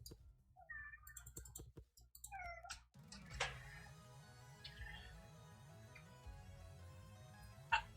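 A house cat meows a few times in short, high, rising calls near the start, over a low steady hum and scattered keyboard clicks, then the room goes quieter apart from faint clicking.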